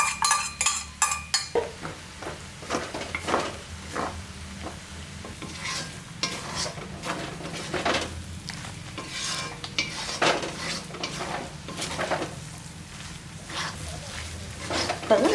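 Egg and chapati kothu stirred in a pan: repeated scraping and clinking of a utensil against metal over a steady sizzle, with brief bursts of clatter throughout.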